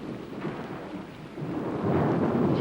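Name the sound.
thunder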